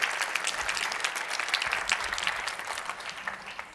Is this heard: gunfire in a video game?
no